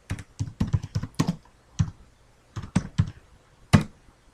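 Commands are typed on a computer keyboard in quick clattering clusters of keystrokes separated by short pauses, ending with a single firm key press, close and clear in a quiet room.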